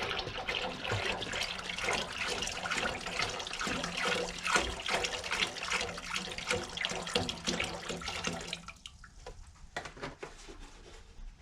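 Water pours steadily from a tap into a large 30-liter ultrasonic cleaner tank, making a full, rushing splash that stops abruptly near the end and leaves a few faint drips.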